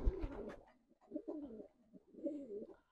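Pigeons coo inside a pigeon loft in three soft, throaty bursts of rolling calls separated by short pauses, fairly close and with no talking.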